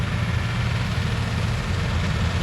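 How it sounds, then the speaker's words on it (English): A sugar cane harvester's engine runs steadily during the cane crop harvest in Jamaica, a loud, continuous low rumble and drone with no pauses or speech. "this is the harvesting of cane crop"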